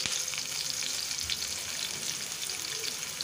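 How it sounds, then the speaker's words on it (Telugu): Chopped onion pieces frying in hot oil after mustard seeds have spluttered, a steady close sizzle with a dense crackling hiss throughout and no pauses. "ఆవాలు చిటిపట్లాడాక ఆనియన్ ముక్కలు వేసుకోవాలి"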